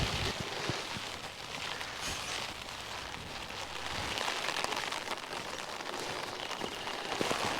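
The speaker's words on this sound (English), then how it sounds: "The rain is coming down harder now" Steady rain falls during a countryside walk near Tisbury, Wiltshire, a dense continuous patter and hiss on surfaces, moderately loud and unbroken throughout, with no talking.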